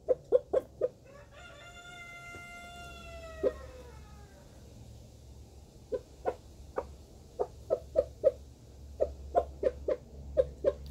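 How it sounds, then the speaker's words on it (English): Backyard garden chickens give one long crow, then a steady run of short, sharp clucks spaced about half a second apart, close and fairly loud against quiet surroundings. "I love when chickens make happy noises."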